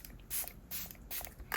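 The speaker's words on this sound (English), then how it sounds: "I'm gonna spray my face with the Milani Make It Last Moisture Boost." Milani Make It Last Moisture Boost setting spray hisses onto a face in several short, faint, close-up bursts, separated by brief pauses.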